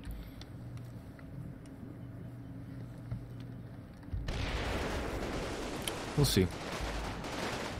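A tank fires on an anti-tank gun in a Combat Mission Red Thunder village attack, with a rumbling wash of distant battle noise and a short, sharp cluster of blasts partway through, under brief talk.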